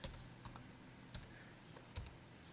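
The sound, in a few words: typing a password on a computer keyboard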